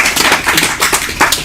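Dense, loud applause from an audience welcoming a poet at a poetry gathering, a steady patter of many hands clapping with no voices over it.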